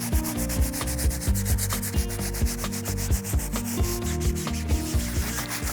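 Muddy eBike tyres scrubbed with cleaner and a brush, giving steady rhythmic rubbing strokes that repeat close by, with no talking.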